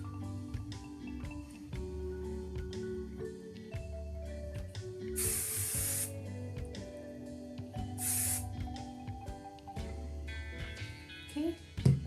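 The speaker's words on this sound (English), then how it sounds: "My handy dandy Suavecita hairspray. And spray liberally and smooth out any flyaways that you have." Suavecita hairspray misted onto hair in two distinct bursts, a longer hiss followed by a shorter one, rising over steady background music.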